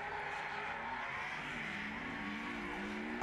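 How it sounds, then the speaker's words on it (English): Formula Drift Top 16 battle in Atlanta with a Hyundai Genesis Coupe drifting: a steady, loud roar of engine and tire noise from the cars, with no talking. "Going against RHYS Madskills Millen in the Hyundai Genesis Coupe"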